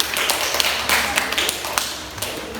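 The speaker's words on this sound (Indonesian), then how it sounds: "Tepuk tangan ya." A classroom of children applauding: many scattered hand claps and taps, fairly close and busy, with voices talking faintly underneath.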